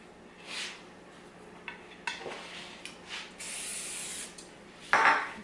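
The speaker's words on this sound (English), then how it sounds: "just to grab the oil and lift it a little bit, if I can hold on to it with my greasy hand, and just give it a spray" Cooking oil hisses in several short spray bursts onto a pizza pan, close and quiet, with light clinks and handling sounds between them.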